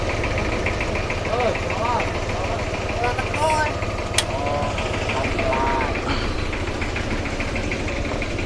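Mini tourist train engines, a Toyota Kijang and an Isuzu Panther, idle together on a night ride, giving a steady, close mechanical rumble with faint background voices and no clear change in pace.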